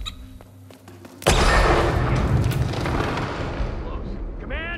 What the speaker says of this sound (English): There's been an explosion!